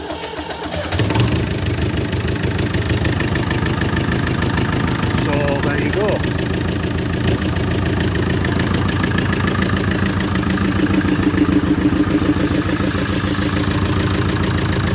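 A David Brown 995 tractor, freshly serviced with new filters, cranks and catches from cold after a second, then settles into a loud, steady, rough diesel idle that runs on unbroken, with a voice speaking over it.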